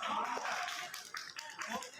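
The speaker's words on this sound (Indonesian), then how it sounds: "di sini saya memberikan aplaus kepada Arya dengan memberikan tepuk tangan" A teacher claps hands in applause for a student named Arya during a physical education lesson, a brief burst of rapid, moderately loud clapping with some talk mixed in.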